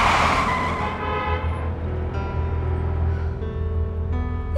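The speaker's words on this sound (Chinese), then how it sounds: "你踩什么刹车？" A car brakes suddenly with a short, loud scrub of tyres at the very start, which fades into a steady low engine and road hum from inside the vehicle.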